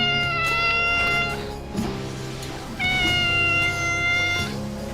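A cat meows repeatedly in a video game, with long, drawn-out, tonal cries in two clear bursts separated by a short pause, loud and close with no talking.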